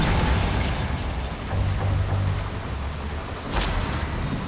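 A Bombarder spell explosion in the video game Hogwarts Legacy, set in a mine, a loud, broad, rumbling blast that sustains for several seconds, with a sharp burst near the end.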